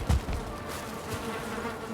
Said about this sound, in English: I'm hearing bees around here.